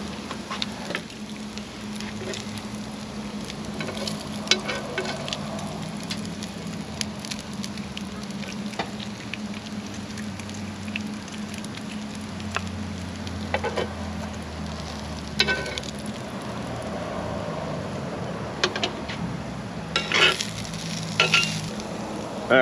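Bacon sizzles and crackles steadily in a cast iron pan over an outdoor camp cooking setup, a continuous hiss with scattered pops and light stirring clatter, no voices.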